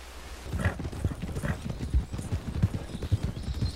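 Horse hooves clip-clop in a steady, close walking rhythm through a Red Dead Redemption 2 game scene, the beats repeating evenly over a low outdoor ambience, with no voices present.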